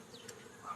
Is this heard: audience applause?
no